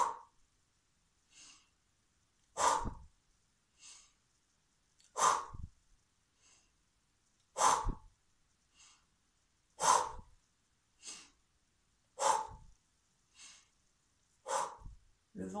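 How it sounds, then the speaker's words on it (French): Slow, deep belly breaths during a guided relaxation exercise, each long inhale and exhale rising and falling in a steady rhythm about every two and a half seconds, with softer breaths in between, close and alone. "j'inspire en relâchant mon ventre"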